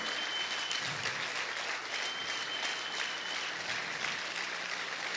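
Continuous applause from a large church congregation during a worship service fills the whole stretch, even and sustained without pauses.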